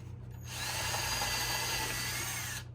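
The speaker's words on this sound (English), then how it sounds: "I'll drill these first holes from the inside." A power drill bores holes through wood while building a scout bird feeder, a steady whining grind lasting about two seconds that starts and stops abruptly, close and loud with no talk.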